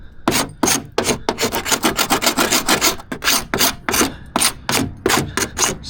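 Rusty car body panel on a Nissan D21 Terrano being scraped back, a close, loud series of rapid rasping strokes in an uneven rhythm, with no talking.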